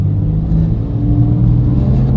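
A Porsche 911 Carrera pulls away from a standstill slightly uphill, its close engine rumble swelling as a higher motor tone rises beneath it.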